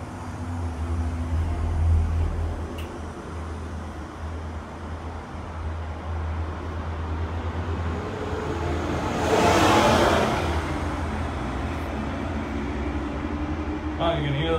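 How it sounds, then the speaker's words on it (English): Vehicle traffic passing beneath a Disney Skyliner gondola along Buena Vista Drive at Walt Disney World, a continuous loud roadway rumble with a broad swell as a bus goes by below, under steady cabin and wind noise. "Buses going under us."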